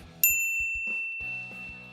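A single bright notification bell ding rings out sharply, its clear tone sustaining and fading over soft background music.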